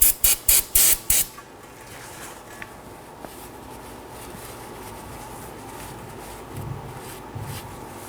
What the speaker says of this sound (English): I'll be using some brake clean and a rag.